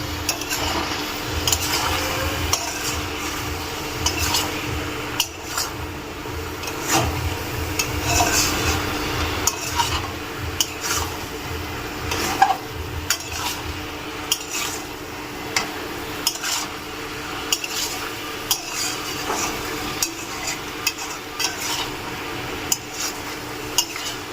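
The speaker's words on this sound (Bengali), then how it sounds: "এবার এটাকে আমি ভালো করে কষিয়ে নেব" Dhaba-style chicken masala sautéed in a pan, with constant close scraping and clattering of a spatula against metal over a low sizzle, in busy irregular strokes throughout.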